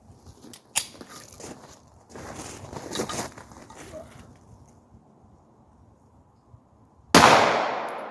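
A single sharp, loud gunshot cracks near the end as a hollow point bullet is fired into a barrel, following several seconds of quiet handling noise and faint clicks.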